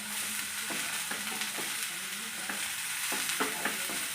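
Coriander and mixed vegetables sautéed in a hot pan for veg biryani, a steady close sizzle broken by repeated scraping stirs of a spoon against the pan, with no talking.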